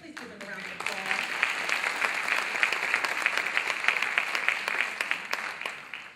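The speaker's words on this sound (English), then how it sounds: "Please give them a round of applause." Live applause from an audience at a spoken-word production, as a sister duo is introduced to the stage; steady dense clapping fills the whole stretch, fairly close and continuous.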